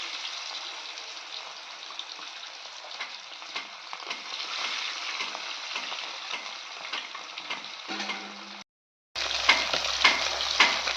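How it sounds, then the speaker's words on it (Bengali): Fish fries in hot oil in a wok, a steady close sizzle with light crackles and occasional stirring taps that drops out briefly near the end before resuming. "কড়ার মধ্যে আমি প্রথমে মাছটা ভেজে নেবো"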